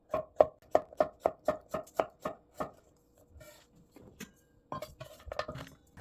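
A knife slices vegetables on a cutting board into pieces 0.3 to 0.5 cm thick, about ten quick rhythmic close chops, a pause with faint handling, then a few more cuts.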